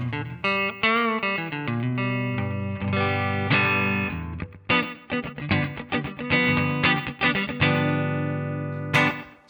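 Electric guitar through a clean patch with reverb and trails on a Valeton GP-5 multi-effects unit, playing chords and single-note phrases with ringing sustain and smooth decay, alone without talk.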